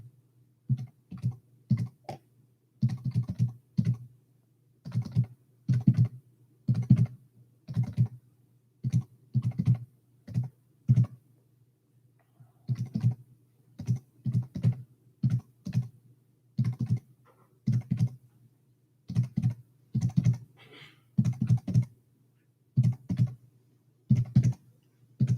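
Someone types on a computer keyboard in steady bursts of close, crisp key clicks with short pauses between runs, entering cipher text into an Excel sheet.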